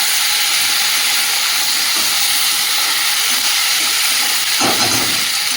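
Okra and other vegetables fried in oil with cumin seeds, making a loud, steady broadband sizzle that keeps going close by, with a brief stronger burst near the end.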